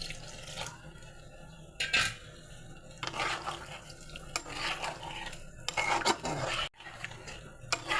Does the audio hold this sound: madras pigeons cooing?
no